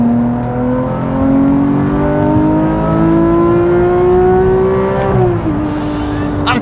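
A Porsche GT3 cruises at speed on a motorway, its engine droning loudly and steadily from inside the cabin, the pitch slowly climbing before dropping briefly as the gear shifts.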